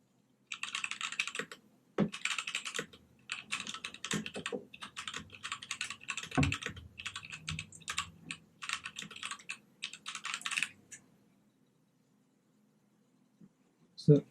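Typing on a Keychron K2 mechanical keyboard, close and crisp, with bursts of rapid clacking keystrokes separated by brief pauses, falling silent near the end before a couple of final thumps.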